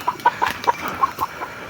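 A white chicken clucks in a quick series of about eight short, fairly close clucks in an outdoor yard, with no talk over it.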